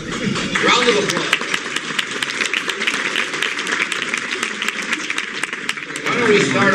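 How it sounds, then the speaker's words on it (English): Audience applause at a Chicago Sun-Times panel discussion, a dense steady wash of many hands clapping that fills the room for several seconds at fairly loud level, with scattered voices mixed in. "Round of applause."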